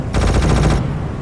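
A single sustained burst of rapid infantry gunfire in a Far East mod of Company of Heroes, loud and close, ending abruptly after under a second.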